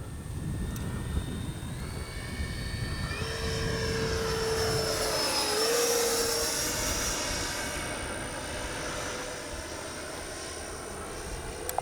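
A Freewing Red Hawk T1 70mm RC jet makes a steady, loud ducted-fan whine that rises and falls in pitch as it passes close by, with a sustained roar throughout and no talk.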